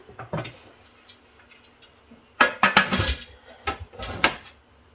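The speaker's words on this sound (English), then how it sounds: "I have both of my canners are full, and I'm going to put the lids on." Metal lids being fitted onto two full pressure canners, a series of sharp clanks, taps and scrapes of metal on metal, close and loud in uneven bursts with quiet gaps between.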